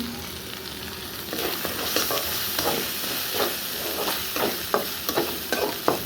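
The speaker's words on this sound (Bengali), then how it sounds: "জিরার গুঁড়াও দিচ্ছি মরিচ হলুদ একসাথে মিক্স করে দিয়ে দিচ্ছি" Ground cumin, chilli and turmeric fry in hot oil, a steady close sizzle broken by repeated rhythmic stirring scrapes against the pan, with no talking.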